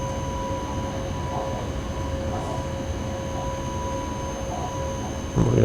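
Modern Traxx electric locomotive running in the SimRail train simulator game on the Pilichowice–Żelisławice line: a steady mechanical hum with sustained tones, ending in a brief louder rumble.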